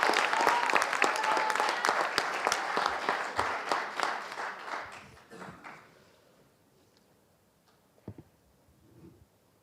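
A hall audience applauds at a school eloquence and debate competition, loud dense clapping for several seconds that thins out and dies away, leaving a few scattered claps and quiet room noise.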